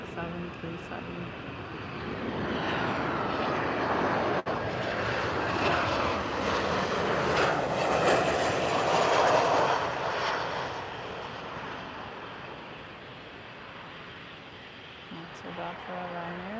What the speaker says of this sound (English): It's a Ryanair Boeing 737.